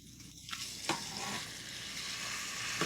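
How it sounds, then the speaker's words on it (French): Ground meat frying in a pan, a loud continuous close sizzle with a few sharp scrapes and clicks as it is stirred and broken up. "Je vais bien faire revenir cette viande hachée."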